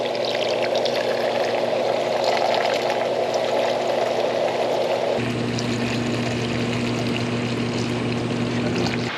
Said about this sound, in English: So now we're going to go ahead and fill it with antifreeze.